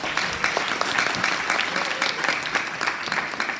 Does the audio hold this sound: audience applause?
yes